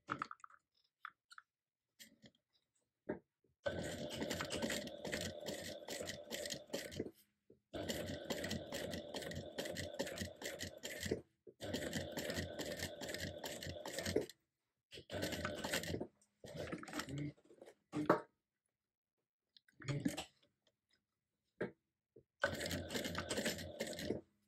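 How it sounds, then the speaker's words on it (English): A sewing machine top stitching a fabric clutch an eighth of an inch from the edge runs in rapid, steady bursts of needle chatter, stopping and restarting several times with short quiet gaps between runs. "So we will be stitching here as well as here"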